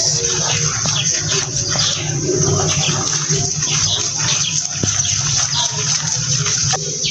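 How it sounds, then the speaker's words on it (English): Water pours into crepe batter with a steady, continuous gush that runs loud and unbroken for several seconds. "lastly, we will add the water, then mix"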